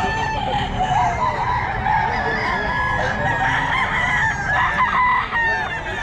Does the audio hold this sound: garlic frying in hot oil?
no